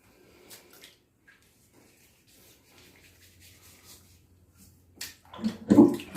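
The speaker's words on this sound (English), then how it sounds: "Just let the water out the sink." Water drains out of a sink, quiet at first with faint trickles and drips, then a louder gurgling rush near the end.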